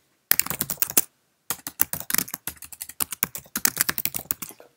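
Fingers typing fast on a Mac computer keyboard, giving a dense run of crisp, close key clicks with a short pause partway through.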